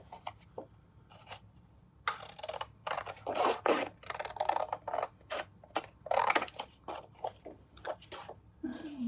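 Long-bladed Tim Holtz scissors snip and slice through paper in a series of irregular crisp cuts, some longer swishing strokes, close and fairly quiet.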